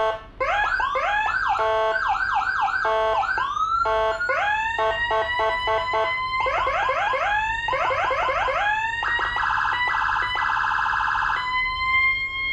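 Whelen 60-watt siren module played through a loudspeaker, cycling loud electronic wail, yelp and hi-lo tones in rapid succession, steady and close with no voices.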